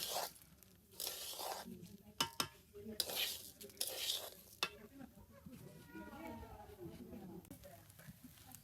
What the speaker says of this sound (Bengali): পোলাও চালগুলা দিয়ে দিয়েছি, এগুলো এখন ভেজে নিব সুন্দর করে